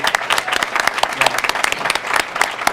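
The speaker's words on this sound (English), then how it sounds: "give them a round of applause" An audience at an annual award night breaks into steady, dense applause, loud and close, many hands clapping together for a few seconds.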